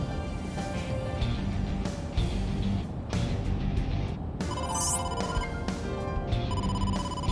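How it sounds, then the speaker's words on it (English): A phone rings for an incoming call from the boss in the video game AI: The Somnium Files. The bright electronic ringtone repeats steadily over an ambient backdrop, with one brief rising chime partway through and no speech. "incoming call from the boss"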